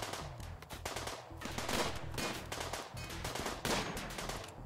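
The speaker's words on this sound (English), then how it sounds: "Atlas took a gunshot to the arm." Rapid bursts of gunfire crackle in a RimWorld battle, with dense overlapping shots in quick irregular volleys throughout.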